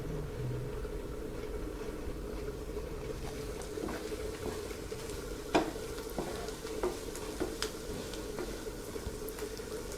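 Chilli garlic prawns sizzle in a pan while being stirred, giving a constant low frying hiss with scattered spoon scrapes and clinks close by.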